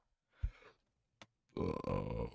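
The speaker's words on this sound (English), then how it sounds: "Sorry, I had to burp." A person's single short, low burp during a livestreamed novel reading, then a brief click after a pause and a louder, sustained voiced sound close to the microphone.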